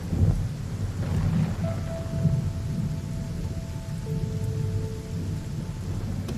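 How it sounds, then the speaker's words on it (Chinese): Heavy rain pours steadily in a dense, continuous roar, with low rumbling underneath and a faint tonal whine drifting through. "外边雨下的挺大的"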